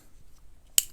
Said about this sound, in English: Finally, we have